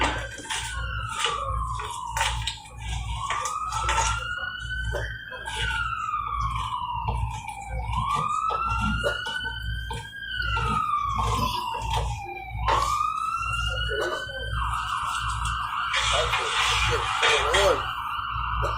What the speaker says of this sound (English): fucking police sirens out there